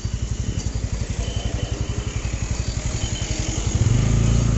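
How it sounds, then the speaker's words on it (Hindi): A group of off-road vehicles heads out on a mountain trail from Kupwara, their engines chugging in a fast, steady rhythm nearby and growing a little louder near the end. "ये सारी गाड़ियाँ हमारी जो ऑफ रोडिंग पे जा रही है"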